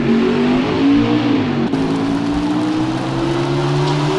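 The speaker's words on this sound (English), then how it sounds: "I'd have to say the NASCAR game arena for the Truck Series is my favorite sound among motorsports" A NASCAR Truck Series engine in a racing video game holds a loud, steady high rev that climbs gradually, with a brief dip midway before it settles back into a continuous drone.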